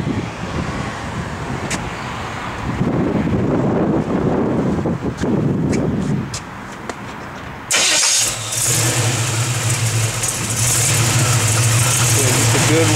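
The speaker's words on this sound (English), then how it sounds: "just a good running small block" A 1971 Chevrolet C10 pickup with a small-block V8 starts and runs at a steady idle nearby, with wind buffeting the microphone and a shift in tone partway through as the air conditioning kicks on.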